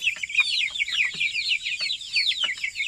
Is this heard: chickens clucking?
yes